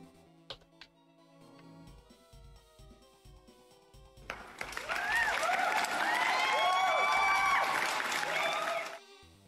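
A stream sound alert plays a short burst of applause and cheering that swells suddenly and holds for several seconds after a few quiet taps and clicks.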